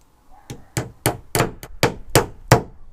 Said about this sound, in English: Now I just need to hammer it together